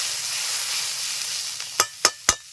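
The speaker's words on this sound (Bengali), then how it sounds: "পাঁচ সাত মিনিট দেখো অনেকটাই কমে গেছে কিছুটা ভাজা ভাজা হয়ে এসছে" Sliced snake gourd fries in a pan, giving a soft continuous sizzle that fades slightly, followed by three sharp clanks of a utensil against the pan near the end.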